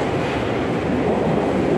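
A Tokyo Metro Hanzomon line subway train at the platform makes a steady, loud rumbling roar with no pauses and no voices.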